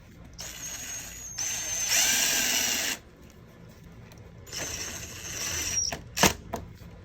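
Power driver running a self-tapping screw into the metal box of an RV refrigerator cooling unit, two whirring bursts of a few seconds each, close, followed by a few light clicks and knocks.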